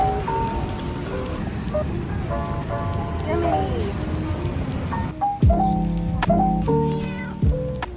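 A cat meows several times in short, rising calls, close by, with a steady patter like rain and some background voices underneath.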